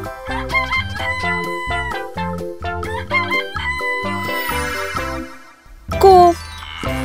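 A cartoon rooster crows amid busy background music, its cock-a-doodle-doo rising near the end over chiming tones.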